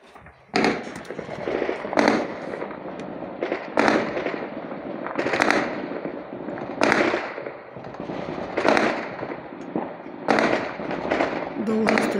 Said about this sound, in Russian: И ближе стреляют, и дальше стреляют, как будто их там несколько.